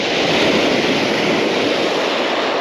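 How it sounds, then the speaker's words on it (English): Ocean waves roll in at night on a beach during squid fishing, a loud continuous rushing surf with wind buffeting the microphone, no voices heard. "We have got a bit of waves coming through."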